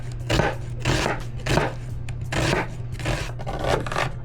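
A knife slicing an onion super thin on a cutting board, a string of about eight rasping strokes in a steady rhythm, close and distinct, with no talking.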